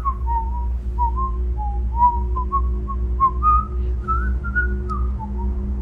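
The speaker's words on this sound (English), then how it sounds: "Why is she whistling though?" A woman whistles a slow, wavering melody in a Mickey Mouse horror film, a thin tune of short gliding notes over a steady low hum, close and alone without speech.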